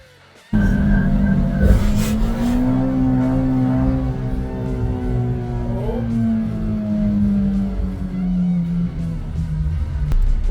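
A Honda K24 VTEC-swapped Camry drives with its rear tyres scrubbing, a loud, continuous engine drone with a tonal whine and tyre noise that sets in abruptly and holds steady throughout.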